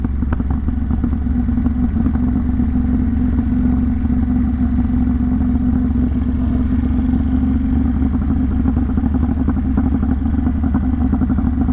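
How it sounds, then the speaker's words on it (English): Ducati Monster motorcycle engine in second gear under heavy engine braking, a steady loud low drone with rattly mechanical clatter running continuously throughout. "In second, there's gonna be even more engine braking."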